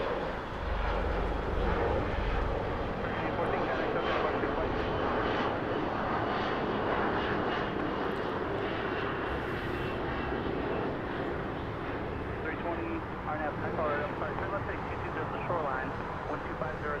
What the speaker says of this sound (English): Have an American Airlines that is going to take off on the other side.